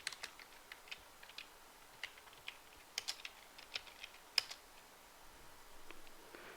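Keystrokes typing a DOS command on a computer keyboard, a quiet run of sharp irregular clicks with a few louder taps, close and alone with no talk.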